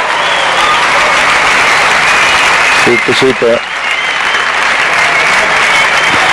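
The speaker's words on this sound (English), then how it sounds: "that's why all that applause is around the court at the moment." Sustained crowd applause fills a badminton World Championship arena after England's Clark and Blair beat a Japanese women's doubles pair, a steady loud wash with a brief spoken exclamation over it.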